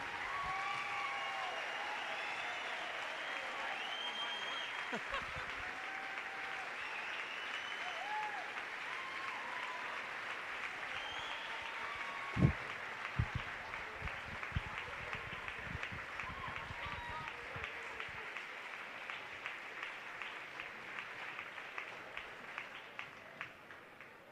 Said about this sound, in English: So if you're able, please stand, and let's give a big Milford applause for Coach Ted Dixon.